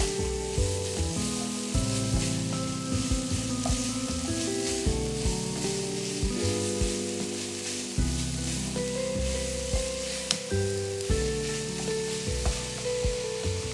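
Sliced large onions frying in a pan give a steady, close sizzle with occasional stirring, running continuously beneath background music.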